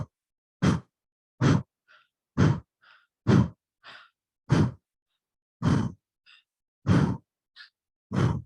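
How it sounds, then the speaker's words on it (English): Someone breathes in and out entirely through the mouth, a gentle blowing exhalation as if blowing out a candle, with about nine soft, evenly spaced breaths alternating with faint inhales and near silence between. "This breath is in and out through the mouth entirely."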